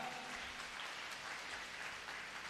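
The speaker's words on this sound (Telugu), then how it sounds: "గట్టిగా చప్పట్లు కొట్టండి, గట్టిగా హల్లెలూయా" A church congregation applauding, a dense, even wash of many hands clapping that holds steady throughout, heard from somewhat back in the room.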